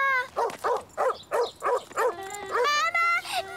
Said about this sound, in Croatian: Pas mu je zvučao ljutito.